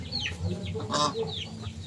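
A brooding hen sitting on eggs gives a few soft, low clucks close by, with rustling and faint background noise.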